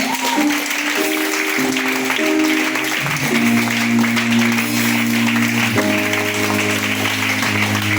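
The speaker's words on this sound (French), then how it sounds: "Tu vas te lever et tu vas applaudir très fort pour le groupe des chants" At a church prayer and certificate service, the congregation applauds the singing group while sustained music and voices play over the clapping, which stays steady beneath the tones throughout.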